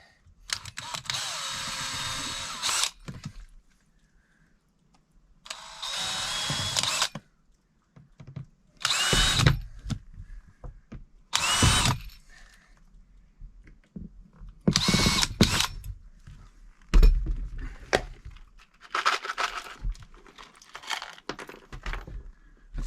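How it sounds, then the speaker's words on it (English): Bursts of a power drill whirring as it drives number 8 screws while installing a shower pan, short runs each a few seconds long, separated by brief quiet pauses, close by with no talking. "I think I used a 5/32 drill bit, and these are number 8 screws."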